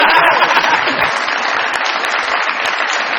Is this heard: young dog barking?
no